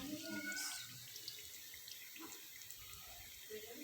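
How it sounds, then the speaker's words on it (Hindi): Potato, methi and palak pakoras fry in hot oil, giving a soft, steady close sizzle and bubbling hiss throughout, fairly faint and continuous. "ये देखें, पकोड़े हमारे फ्राई हो रहे हैं।"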